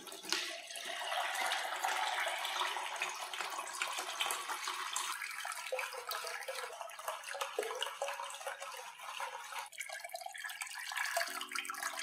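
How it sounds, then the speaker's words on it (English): Liquid ceramic glaze for raku firing is poured through a glaze sieve, giving a continuous splashing, trickling pour of fairly soft level that runs for about twelve seconds with small shifts in flow. "Pour the liquid glaze through a glaze sieve to remove any hard lumps."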